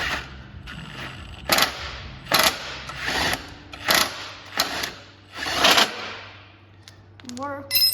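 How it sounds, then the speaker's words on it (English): Impact wrench on a Yamaha Snoscoot snowmobile track shaft bolt: several loud hammering bursts in an uneven series, followed by a short voice at the end. "holding this side with a 14 millimeter and impact on the other, we'll see what happens"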